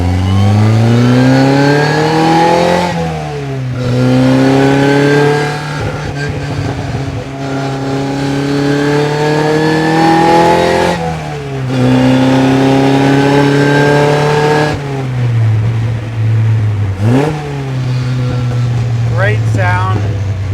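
A 1955 Austin Healey 100S tribute car heard from the passenger seat, its loud engine revving through gears, with long pulls broken by lifts where the exhaust burbles and pops on the overrun, and a voice talking over it.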